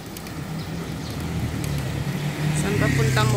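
Busy road traffic with many vehicles passing, a steady engine rumble that builds louder toward the end, with people talking over it.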